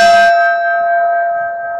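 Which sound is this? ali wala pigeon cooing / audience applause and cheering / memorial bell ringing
memorial bell ringing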